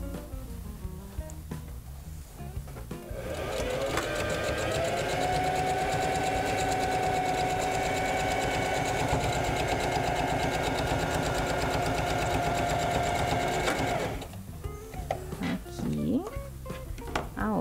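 Sewing machine closing the sides and bottom of a crossbody bag, one long continuous run of steady stitching, loud and close, with quieter handling and talk before and after.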